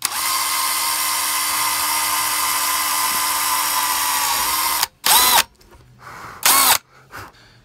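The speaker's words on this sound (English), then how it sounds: "We drilled with minimal safety concerns. Now we have holes." A power drill whines continuously at high speed while boring holes for a recovered microwave vent fan, then stops and gives several short bursts of revving with quiet gaps between them.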